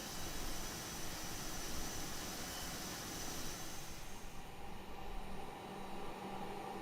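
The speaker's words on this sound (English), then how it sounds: "I'm gonna go ahead and turn off the blower" A simulated Airbus A320 cabin with steady broadband aircraft air and engine noise; partway through, the high hiss of the blower fan drops away as it is switched off, leaving a duller, lower hum.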